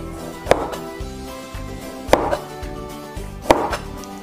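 A knife chops tomato on a board for a pomegranate salad, giving three sharp, close knocks at even spacing over a steady background hum.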